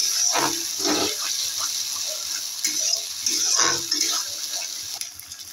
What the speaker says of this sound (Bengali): দইয়ের বাটিটা দিয়ে এর মধ্যে দিয়ে দিলাম জল।